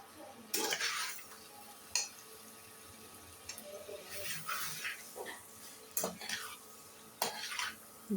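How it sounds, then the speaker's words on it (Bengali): Chicken feet, gizzard and liver being stirred with spices in a pan give a soft background sizzle. Several louder bursts of spatula scraping and clatter against the pan come at irregular intervals. "নাড়াচাড়া দিয়ে কষিয়ে নেব, যাতে সবগুলোতে মশলা ঢুকে"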